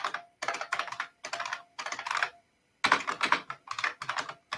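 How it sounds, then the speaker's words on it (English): Loud, close typing on a computer keyboard comes in quick bursts of rapid clicks, separated by short pauses. "I apologize for the loud keyboard."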